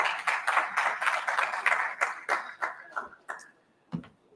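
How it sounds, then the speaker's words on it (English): An audience claps in a conference hall after a presentation on antimicrobial resistance, a dense burst of applause that thins out and fades over a few seconds into a few scattered claps. "a round of applause for Francis"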